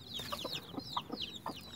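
Hen softly clucking near newly hatched chicks, a faint, steady run of short low clucks with high thin peeping chirps woven throughout, no voices.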